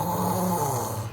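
A storyteller's voice imitates a dog snoring in a children's tale, a steady drawn-out rumbling snore held for about a second, close and clear with no other sound.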